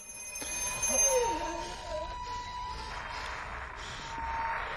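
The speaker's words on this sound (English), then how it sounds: "Phone's ringing for him now." A telephone rings in a horror movie, a faint electronic trill sounding in a few short bursts amid quiet background tones.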